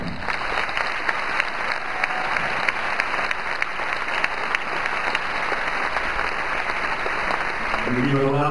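Steady, dense applause from a large audience at a film premiere, continuous and even throughout with no talk, a faint tone running underneath.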